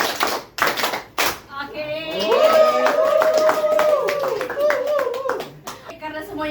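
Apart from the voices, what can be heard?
group clapping in a counted clapping game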